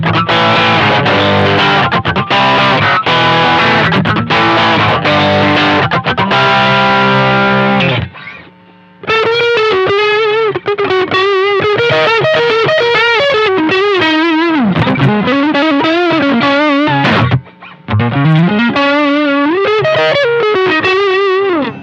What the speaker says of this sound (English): Here's a sound sample of this guitar.